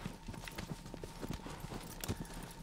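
Horse hooves clip-clop in a steady, close rhythm while riding in the video game Shadow of the Colossus, with faint speech underneath.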